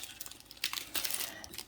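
A small plastic packet of diamond painting drills crinkles and rustles close up in short, irregular bursts of handling noise, with no talk.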